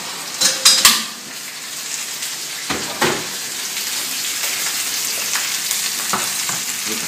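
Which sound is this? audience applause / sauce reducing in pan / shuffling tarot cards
sauce reducing in pan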